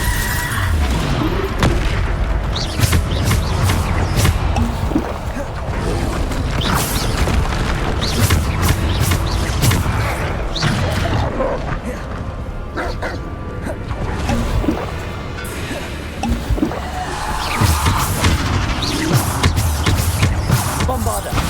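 Repeated Bombarda blasting-spell explosions in Hogwarts Legacy boom through a busy battle, with thuds, crackles and clattering effects recurring every few seconds at steady loudness.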